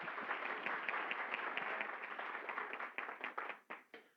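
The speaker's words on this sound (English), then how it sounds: "Give him a round of applause." Audience applause at a League of Women Voters candidates forum in Arroyo Grande, San Luis Obispo County: steady dense clapping filling the room, thinning into scattered individual claps toward the end.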